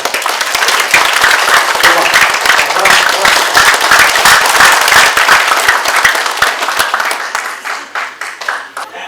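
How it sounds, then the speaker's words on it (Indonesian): A graduation audience claps loudly for the parents, dense sustained applause that fills the hall and thins out toward the end. "saya meminta kalian berikan tepuk tangan yang sangat meriah kepada orang tua"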